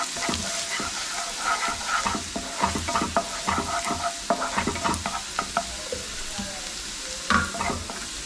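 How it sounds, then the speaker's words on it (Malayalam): Continuous sizzling of aromatics sautéing slowly in a hot pan, with frequent scraping and stirring clicks of a spoon against the pan, close and steady throughout, no voices. "അതേപോലെ പതുക്കി ഒന്ന് മൂപ്പിച്ചെടുക്കാം."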